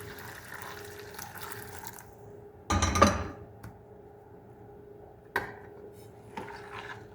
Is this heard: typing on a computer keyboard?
no